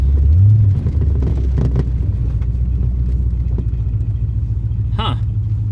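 A 1985 Chevy Corvette engine rumbles steadily in second gear while driving, a loud low drone with a brief rise at the start and a short high whine near the end.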